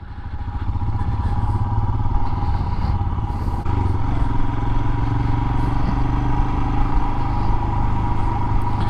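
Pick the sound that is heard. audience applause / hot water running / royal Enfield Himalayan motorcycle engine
royal Enfield Himalayan motorcycle engine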